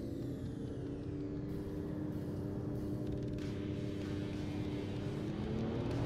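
Car engine in the video game Final Fantasy XV, a steady droning hum with rising tonal whine as the car accelerates, continuous and fairly loud with no talk.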